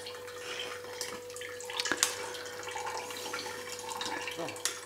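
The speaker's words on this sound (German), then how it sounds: "Aber ich lasse das noch schön abtropfen." Boiled-out soup vegetables from a beef and barley broth drain in a kitchen, giving a steady close trickle and patter of water with a few louder drips, continuous throughout with no talk.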